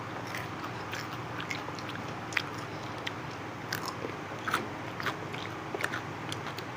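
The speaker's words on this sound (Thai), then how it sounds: "หนวดปลาหมึกจิ้มน้ำจิ้ม เป็นแบบเหมือนมือเลยนะ ร้อน" Someone eats fresh blanched squid tentacles dipped in sauce, biting and chewing close to the microphone. Soft wet crunches and chews repeat in an uneven rhythm, with small louder bites standing out, and no talking.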